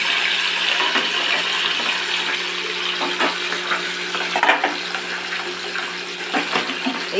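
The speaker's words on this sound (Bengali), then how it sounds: "তেল বসিয়ে দিয়েছি গরম হয়ে গেছে মাছগুলো এবারে ছেড়ে দিই" Pabda fish fry in hot oil under a lid, making a loud, steady crackling sizzle that runs the whole time with bursts of spitting, and nobody speaks.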